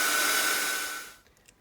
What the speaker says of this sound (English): Now I'm going to dry it with the heat gun